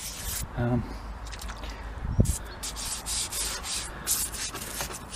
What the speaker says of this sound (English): going to start off by just giving the pot a bit of a clean